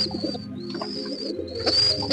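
Pigeons coo softly near young squab, with a thin high whistling tone running through the short stretch alongside low murmuring coos.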